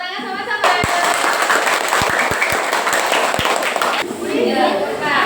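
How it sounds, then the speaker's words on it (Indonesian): Fourth-grade pupils clap together in a classroom, a dense burst of applause with a few sharp individual claps standing out, while voices talk over it. "Tepuk tangan sama-sama."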